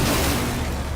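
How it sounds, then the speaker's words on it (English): Hard breach charges thrown by the attacker Ace in the video game Rainbow Six Siege detonate in sequence, producing a dense, continuous rumble of booming blasts for about a second. "bringing a new attacker named Ace, who throws sequentially exploding hard breach gadgets that create small, medium, and large problems for defenders"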